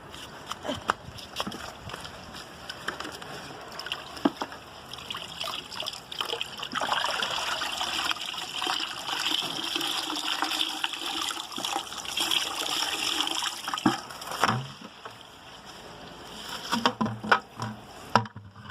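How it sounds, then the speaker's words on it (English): Dirty rinse water from washing sheep's wool being poured out, a steady splashing gush and trickle that swells in the middle, then tapers to scattered drips and patters. "So I'm going to dump this water out."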